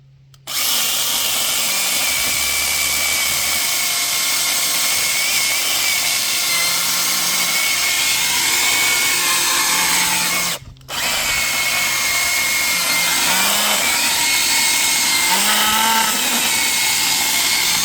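A Parkside PGHSA 20-Li mini cordless 20V chainsaw cuts through wood with a steady loud high motor whine, briefly dropping out once midway before resuming the cut.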